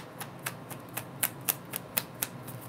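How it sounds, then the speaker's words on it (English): Rider-Waite-Smith tarot cards are shuffled by hand in a steady run of crisp, evenly spaced riffling snaps, close and fairly quiet, with no talking. "I'll take that one and shuffle again."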